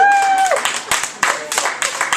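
Comedy showcase audience at a bakery cafe breaks into scattered applause and some cheering after a held vocal note, uneven claps and laughter in a small room.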